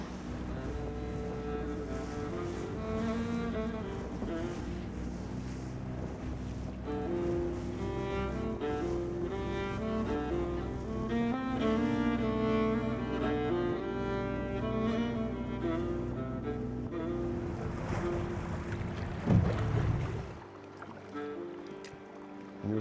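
A boat, likely motor-driven, travels on a river in the Siberian taiga mountains, giving a steady, droning hum with shifting tones that runs throughout before dropping away near the end.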